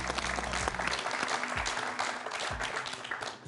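Applause from a French game show studio audience, a steady burst of clapping that holds for a few seconds and then begins to taper off.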